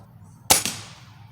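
A single sharp shot from a Ruger Impact Max Elite .22 gas piston air rifle firing a hollow-point pellet, a loud crack with a quick second thump and brief fading tail.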